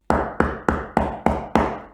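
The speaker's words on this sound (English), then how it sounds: "The wolf came to the door and started banging on the door." Six heavy, evenly spaced knocks pound on a door, loud and close with a short decay after each, as the wolf bangs on it in the three little pigs tale.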